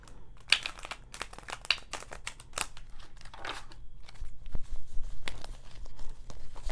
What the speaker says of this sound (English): And I am shuffling the cards again